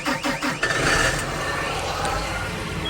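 A John Deere 8345R tractor engine cranks in short rapid pulses for about half a second, then catches and settles into a steady, loud running rumble.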